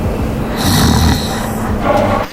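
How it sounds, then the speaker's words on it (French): A sleeping guard snoring, one long loud rasping snore drawn out close by, with a breathy rush trailing into a second intake at the end. "Même d'ici, je peux l'entendre ronfler."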